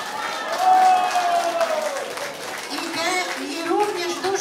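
A crowd at a regional folk ensemble concert claps while someone speaks loudly over the applause, the clapping staying moderate and continuous beneath his voice.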